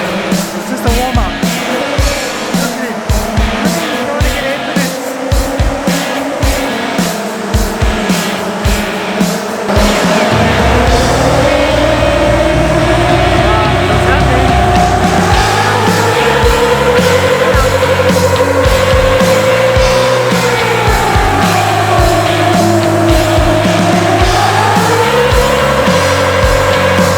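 A 4WD engine on a dyno during an LC200 versus Y62 Patrol shootout, loud throughout: rapid pulsing throttle blips at first, then a steady heavy run whose pitch swells, dips and rises again.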